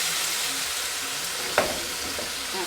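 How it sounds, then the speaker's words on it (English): Split pea soup bubbling and being stirred in a pot, a steady hissing simmer throughout with a single sharp scrape of the spoon partway through. "And you could just stir it around"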